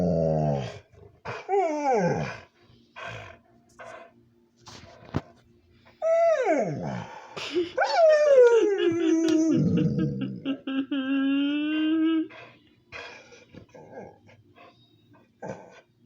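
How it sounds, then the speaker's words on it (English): A dog whimpers and yelps in rising, whining cries and gives low growls, reacting to another dog outside, in bursts separated by short pauses, with a person talking quietly at times. "There's another dog outside, you see."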